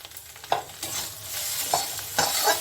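Egg frying in a pan while being stirred, a constant sizzle broken by a few sharp scrapes and clinks of the utensil against the pan, close and fairly loud.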